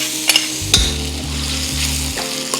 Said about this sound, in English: Give it a quick stir fry.